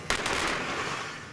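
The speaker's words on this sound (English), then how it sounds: "So the Capitol explosion is another one, another big miniature gag." A 24th-scale miniature of the Capitol blows up outdoors for a film effect, a sharp loud blast followed by a few quick cracking pops and a sustained roaring rumble of debris.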